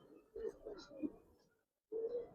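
Giribaz pigeons, female birds, coo in low, throaty bursts that trail off, go briefly silent, then resume near and clear, with little else around them.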